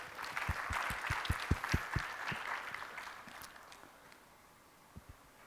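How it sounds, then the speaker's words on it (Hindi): Sparse claps from a small audience at a talk on marriage and purpose, a quick run of separate hand claps early that fades, with a couple more near the end. "ताली खुल के बजा सकते हैं।"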